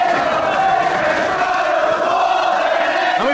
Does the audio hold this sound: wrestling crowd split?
yes